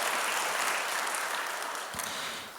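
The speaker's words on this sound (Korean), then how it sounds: "격려의 박수를 올려드리겠습니다" A church congregation at a Sunday worship service gives steady applause of encouragement after a testimony, a dense, even wash of clapping that fades slightly toward the end.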